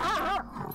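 Dogs in the video game Fear and Hunger give a short, close burst of barking and yipping with a growly whimper edge, then fall quiet.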